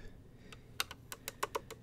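The keys of an electronic keyboard are tapped in a quick, uneven series of crisp clicks, close by and fairly quiet, with no voices.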